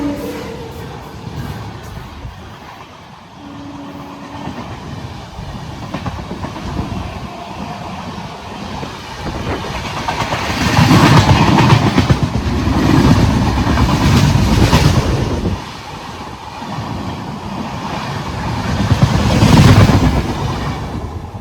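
The Nagercoil Express, bound for Dindigul, rumbles loudly along the rails, heard from inside the carriage as a continuous roar with rhythmic clatter that swells and eases in waves over about twenty seconds; no voices.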